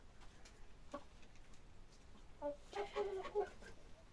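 Lohmann Brown hens about four months old cluck in short, moderately close bursts clustered near the end, with a faint earlier call over a quiet farmyard background.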